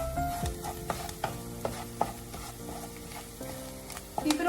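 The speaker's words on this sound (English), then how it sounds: "Keep it on low flame and keep sauteing it." Ingredients for white sauce pasta sauté over a low flame, giving a soft steady sizzle broken by sharp, regular spatula taps and scrapes against the pan.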